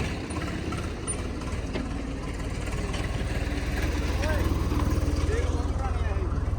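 A tractor engine rumbles low and steady, straining harder as it pulls an old buried pole out of the ground on a farm. Voices talk over the continuous drone.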